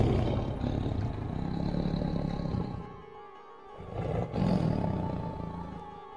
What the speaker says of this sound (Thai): พลันเสียงคำรามก็ดังขึ้น ดังสถานป่า อำนาจคำรามสะกดป่ายามดึก